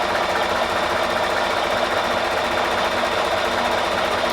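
A sewing machine stitching fabric, its needle running at a fast, even mechanical rattle that stays steady and close for the whole stretch, with no voices.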